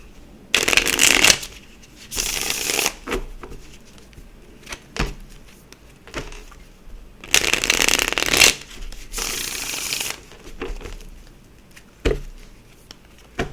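A deck of cards is shuffled repeatedly, bursts of riffling and bridging at close range separated by short pauses and soft taps as the deck is squared.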